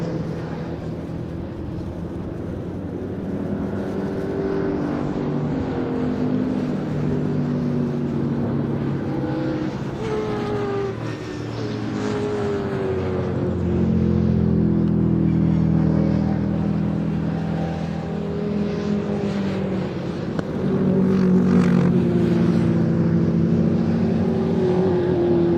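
Classic race cars, including an MGB and a Shelby Mustang fastback, circulate at Thruxton circuit. Their engines drone and rise and fall in pitch as they pass, loud and continuous, with no talk.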